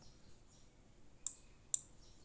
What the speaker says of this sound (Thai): คลิกเลือกไฟล์ครับ